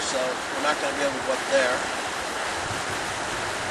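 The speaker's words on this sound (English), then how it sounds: "I'm standing over the top of the Loyalsock Creek here in northeastern Pennsylvania right now." Loyalsock Creek in the northeastern Pennsylvania mountains rushes steadily below a bridge in spring, a continuous broadband wash of flowing water with some wind, heard under a man's nearby speech.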